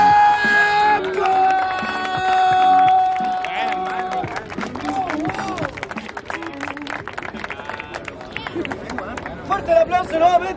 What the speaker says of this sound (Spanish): ¡Fuerte el aplauso nuevamente por esta batalla,